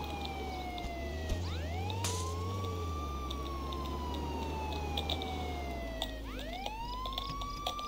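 Police car siren in a video game, a steady wailing tone that sweeps up and down across two cycles over a low engine rumble, fairly quiet with no talking.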